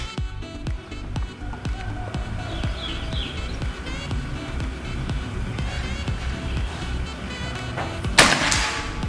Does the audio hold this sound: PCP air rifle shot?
yes